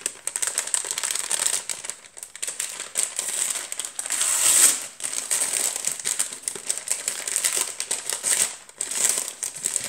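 Cardboard and paper wrapping of a small advent calendar box crinkle and crumple as it is opened, close and continuous rustling with brief sharper tears.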